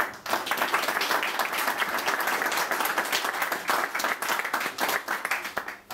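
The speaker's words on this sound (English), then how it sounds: "A round of applause, please, to Credit Suisse." Applause from an audience at a Goodwood Revival talk, held in a restored building on a rainy Friday, a dense, steady wash of many hands clapping for the full six seconds with no talk over it.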